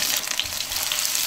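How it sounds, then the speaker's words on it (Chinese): Garlic slices and chili peppers stir-frying in hot oil, a steady close crackling sizzle filling the whole moment without any talk. "下油，蒜片儿、尖椒、"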